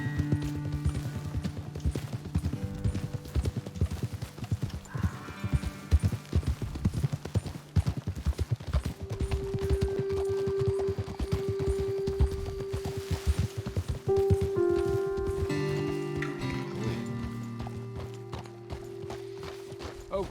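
Horses in the Red Dead Redemption 2 video game trot with steady, loud clip-clopping hooves that carry on through the whole stretch, joined by creaking tack, a musical score and a brief whinny, with no talk.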